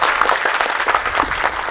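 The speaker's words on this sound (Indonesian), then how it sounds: "tepuk tangan untuk Bapak Menteri" A crowd at a regional hospital modernization groundbreaking applauds the health minister, dense steady clapping filling the space at close range with no break.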